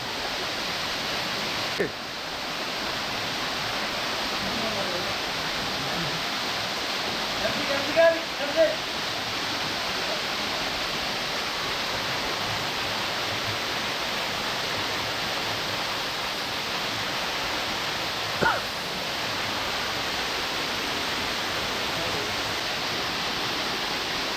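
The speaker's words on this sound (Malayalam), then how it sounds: "അപ്പൊ ചെറിയ വാട്ടർഫാൾസ് ആണെങ്കിലും ഭയങ്കര തണുപ്പുണ്ട് കേട്ടോ വെള്ളത്തിന്" A small waterfall with very cold water rushes in a steady, full hiss throughout, close and constant, with a few brief thumps and faint bits of voices under the roar.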